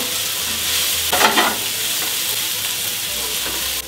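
Onions sweating in butter in a pan, a continuous close hiss and sizzle with a brief burst of stirring near the middle, then steady cooking until it cuts off, with no voices.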